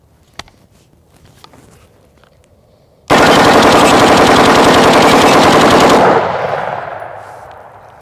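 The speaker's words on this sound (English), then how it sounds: "This is 30 rounds," A sustained 30-round burst of 5.56 rifle fire strikes an AR500 steel armor plate, a loud, dense rapid stream of cracks and metallic impacts lasting about three seconds and then decaying into ringing echo, with quiet outdoor ambience before it.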